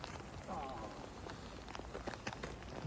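Rain falls steadily over a snow-covered frozen Lake George in New York, a constant hiss with light patters on nearby surfaces and some faint voice activity.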